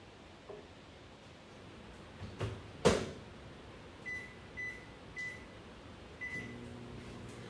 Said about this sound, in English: I'm going to put this in the microwave for 1 minute and 15 seconds